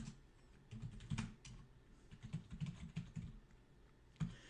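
Quiet, steady typing on a computer keyboard while a command is entered, with rapid uneven keystrokes, a few louder key presses, and no talking.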